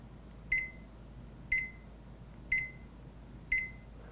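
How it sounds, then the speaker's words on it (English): A LaCrosse W88631 atomic digital clock sounds its crescendo alarm: four short, clear electronic beeps spaced one second apart, fairly faint and close, with no talk. "It's a crescendo style alarm, so after 10 seconds of beeping once per second, it starts beeping twice per second."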